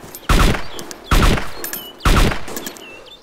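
Three loud, close gunshots from DayZ gameplay, evenly spaced about a second apart, each followed by a ringing echo tail.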